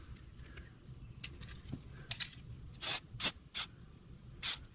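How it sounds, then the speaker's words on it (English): Faint scraping and handling noises give way to four short hissing bursts from an aerosol rust-prevention spray can, the second pair coming in quick succession. "You just flip it up and you give a little spray right here."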